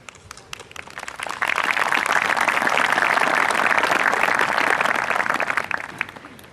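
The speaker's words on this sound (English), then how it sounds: "for that, we applaud you" A crowd applauds at an outdoor high school graduation ceremony in August 2020. Steady, dense clapping builds within a second, holds strong for several seconds and then tapers off near the end.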